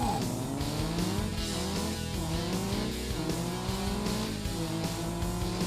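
Rally car engine racing against the clock on a snowy, slippery alpine mountain stage in the Rally Fury video game, a steady loud revving drone with shifting pitch and tire noise throughout, no voices.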